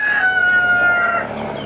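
A rooster crows loudly and close by amid chickens at a poultry pickup, a single drawn-out call that fades into soft clucking, with no talk.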